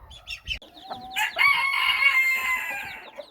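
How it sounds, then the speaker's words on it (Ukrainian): Nearby chickens cluck in short bursts, then a rooster lets out a long crow, with more scattered clucking around it, among young chicks. "От так гарно вже підросли курчата."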